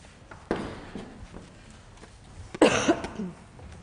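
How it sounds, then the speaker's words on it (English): A sharp cough near the start, then a louder, harsher burst of coughing toward the end, close up, over a quiet background. "Apologies for the cough."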